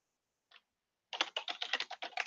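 Keys clack on a computer keyboard as a spreadsheet name is typed. A single keystroke comes first, then after a pause a quick, close burst of steady typing.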